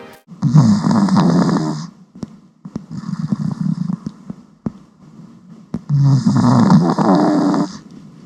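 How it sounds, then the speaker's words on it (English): A pet snoring in three loud, close bursts, each a rough nasal rumble lasting about a second or two, separated by brief quieter breaths. "This is the actual footage of Bambi snoring"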